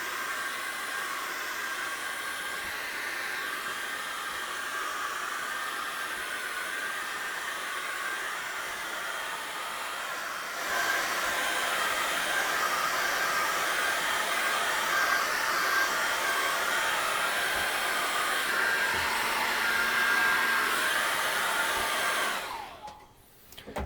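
A hair dryer blows on an acrylic painting from about 12 inches away, a loud, steady whooshing drone that runs continuously, grows slightly stronger partway through, then cuts off at the end.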